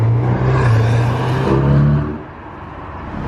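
A McLaren 720S Mansory with a carbon body kit rolls into an underground car park, its loud, close engine humming and revving briefly before settling to a lower, steady drone.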